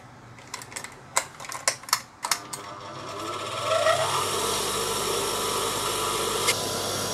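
A pedal-driven machine with a grinding wheel for sharpening scissors gives a few sharp mechanical clicks, then whirs up in pitch and settles into a steady spinning hum.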